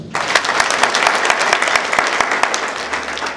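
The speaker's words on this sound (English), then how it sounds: "Now, can you clap for yourselves?" A room full of people at a university graduation ceremony in Kenya claps briskly and continuously for a few seconds, loud and close.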